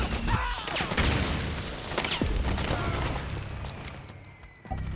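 Loud, dense gunfire from the video game Metal Gear Solid 4: Guns of the Patriots, with rapid overlapping shots and booming bursts running through the whole stretch.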